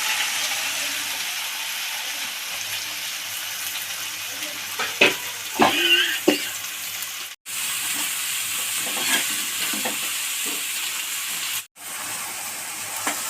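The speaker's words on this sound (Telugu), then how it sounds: "సన్నగా సరిగి పెట్టుకున్నటువంటి దొండకాయల్ని చక్కగా నూనెలో వేయించుకొని" Thinly sliced ivy gourd (tindora) frying in oil in a pan, a steady soft sizzle and hiss with occasional stirring clatter and a few sharp crackles in the middle.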